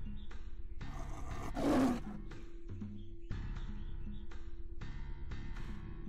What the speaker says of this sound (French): C'est comme un genre de tigre.